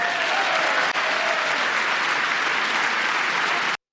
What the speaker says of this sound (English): You have Republicans clapping for Doge.